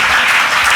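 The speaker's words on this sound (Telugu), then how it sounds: "గట్టిగా చప్పట్లు కొట్టండి" Loud applause from a church congregation, dense and continuous hand clapping filling the whole short moment without any voice over it.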